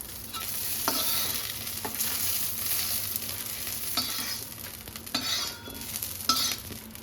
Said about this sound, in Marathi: मस्त तेलामध्ये आता मिरच्या सुद्धा फ्राय झालेल्या